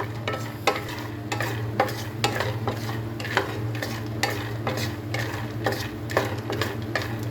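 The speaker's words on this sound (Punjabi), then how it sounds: "ਆਪਾਂ ਹੁਣ ਵਿੱਚ ਇਹਦੇ ਮੂੰਗਫਲੀ ਰੋਸਟ ਕਰਾਂਗੇ" Peanuts roasting in oil in a pan over a slow-to-medium gas flame, with a steady close sizzle and regular scraping stir strokes about once a second, no talk.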